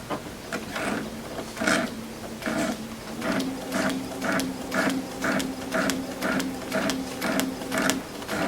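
Sewing machine stitching fabric along a template seam line, a steady rhythmic run of mechanical clicks and whirring at close range with no talking.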